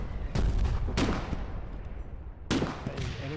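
Heavy booms from artillery fire in the war video game Foxhole, three loud impacts spaced about a second apart over a constant rumbling battlefield din.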